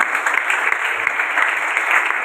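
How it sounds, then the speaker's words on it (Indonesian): A church congregation claps steadily and loudly throughout, a dense, even wash of applause with no pauses. "Yuk kita tepuk tangan buat Tuhan kita."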